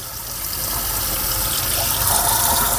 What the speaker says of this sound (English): After turning on the water, you must wet wrists, hands, and fingers.